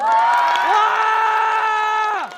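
Crowd at a Gyeonggi arts-education week celebration concert cheers and whoops after a performance, a sustained loud high-pitched shout from many voices that holds steadily, then tails off with a falling cry at the end.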